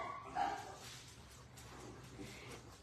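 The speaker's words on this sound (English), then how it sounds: "Dog's barking." A dog barks once, fairly close, in a short bark near the start, then faint intermittent yips under steady indoor background noise on an ordinary morning at home.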